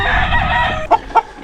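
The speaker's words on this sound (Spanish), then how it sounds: "Los gallos están abajo y las gallinas arriba" Roosters crow loudly and close by on a farm beside an onion plantation in Pereira, Colombia: one drawn-out call followed by two short, sharp clucks.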